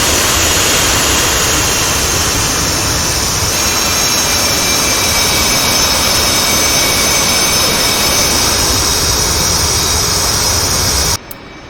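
F/A-18 Hornet jet engines taxiing in the DCS flight simulator: a steady, loud, roaring whine with broad rushing noise that holds evenly throughout and cuts off abruptly at the very end.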